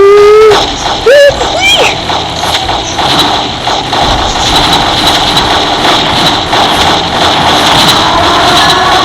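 A World War II–era aeroplane engine in a video game drones steadily and loudly throughout, with high whining tones sliding early on and speech-like sounds mixed over the continuous roar.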